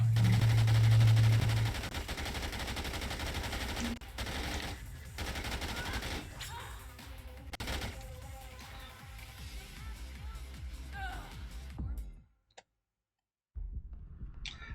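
Rapid bursts of light machine gun fire in Dead Rising 2, loud at first, then thinner clicking shots, ending in an abrupt drop to silence before faint game sounds return.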